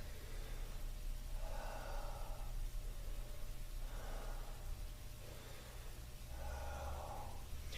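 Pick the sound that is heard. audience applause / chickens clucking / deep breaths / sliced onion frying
deep breaths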